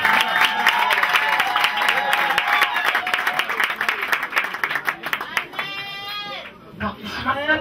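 A wedding congregation at a church ceremony applauds and cheers loudly and continuously for the Lord, dense clapping and voices with shouts and whistles rising over it, then thinning toward the end.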